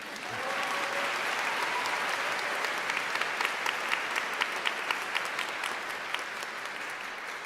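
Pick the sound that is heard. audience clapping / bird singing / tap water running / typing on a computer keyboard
audience clapping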